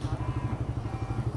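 A motorcycle engine idles with a steady low throbbing pulse amid a busy Divisoria vegetable and fish market, moderately loud and continuous.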